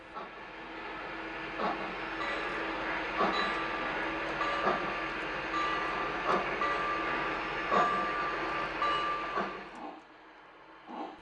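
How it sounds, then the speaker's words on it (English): Lionel model trains run around a hobby layout, a steady mechanical rumble with rhythmic clicking over track joints at a moderate distance, continuous for about ten seconds before easing off. "really here the main attraction is just the trains and the scenery and the sounds and sometimes the smoke"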